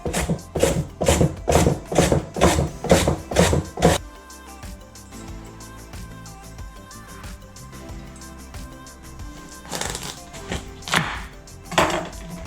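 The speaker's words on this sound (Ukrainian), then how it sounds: "Далі натираю корінь селери. Також на тертушку для моркви по-корейської." Celery root is rubbed against a Korean-style carrot grater in a quick run of about eight rhythmic rasping strokes, then a pause over background music before a few more scrapes.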